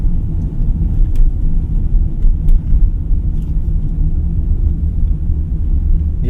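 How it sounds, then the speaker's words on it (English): Interior of a 2025 BYD eMAX 7 electric car accelerating in sport mode, a steady low road rumble and tire roar with faint ticks, no engine note. "An electric vehicle, torque comes in instantly when you put your foot on the throttle."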